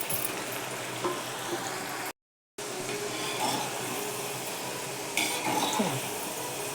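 Chana dal and moong dal fry in hot oil, producing a steady soft sizzle with occasional stirring clinks, continuous apart from a short silent break.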